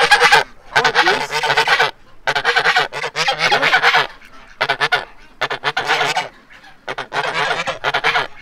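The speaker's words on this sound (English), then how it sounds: "It's a big goose, guys." A big goose honks loudly right up close in a rapid series of harsh, blaring bursts, separated by brief gaps.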